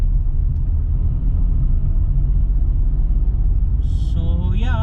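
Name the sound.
Volkswagen Polo engine straining on uphill climb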